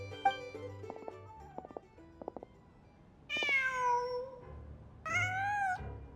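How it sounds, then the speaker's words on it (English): Cat meowing in the video game Genshin Impact: two drawn-out, clear meows a couple of seconds apart, preceded by soft ambient game tones and small clicks, with no talk. "Just a cat."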